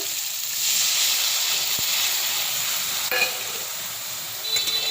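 Prawns cooking in a pan with juice from ground prawn heads and tails give off a steady, bright frying hiss, close and even, with a couple of soft knocks and no voices.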